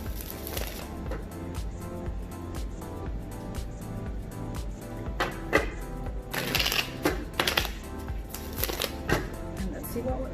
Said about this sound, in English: we are gonna shuffle